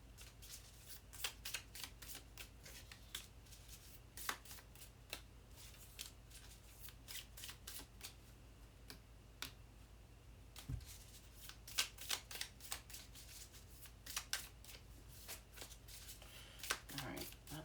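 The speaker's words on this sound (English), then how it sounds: "this is just hard to shuffle" A deck of tarot cards is shuffled by hand, close and quiet, in repeated bursts of crisp riffling and flicking slaps.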